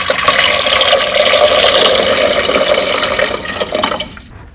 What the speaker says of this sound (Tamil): போட்டு தண்ணி ஊத்திடுங்க முழுகிற அளவுக்கு